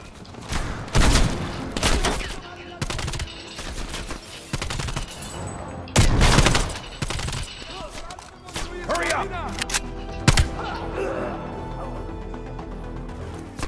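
Automatic gunfire in the video game Call of Duty Cold War rattles out in loud bursts between quieter stretches, with booming hits and footsteps, as a player talks over the action.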